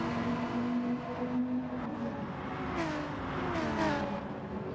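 Several race cars, including a large Dodge, a BMW and a Lexus, drone and rev through a video game race, engine pitches sliding up and down as cars shift and pass, loud and continuous.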